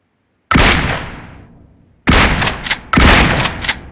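Gunfire from an unfamiliar, somewhat heavy gun in the video game PUBG Mobile: a loud, close shot with a long decaying tail, then a dense rapid burst of shots and another burst, with no talking.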